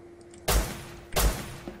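Gunfire in the survival game Rust, two heavy booming shots about three-quarters of a second apart over a steady low hum, with a faint third knock at the end.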